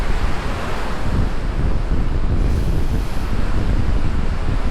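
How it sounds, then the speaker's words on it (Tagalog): Strong wind roars continuously and loudly across the microphone during a night ride on a 1300 km North Luzon audax cycling event, a dense broadband rush with steady gusting and no talk. "Delikado yung hangin."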